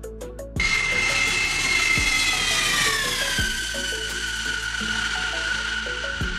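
Lockheed C-5 Super Galaxy, the largest U.S. Air Force military transport aircraft, with its jet engines whining loudly at a steady roar that slowly drops in pitch, heard alone without talk.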